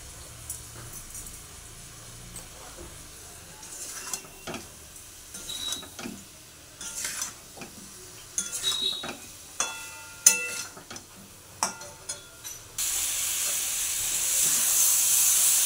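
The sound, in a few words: stirring spice masala in a pan so it doesn't burn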